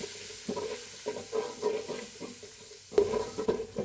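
Beef khichuri cooking in a pot after garam masala goes in, a soft sizzle under irregular stirring scrapes and spoon knocks, fairly quiet and close.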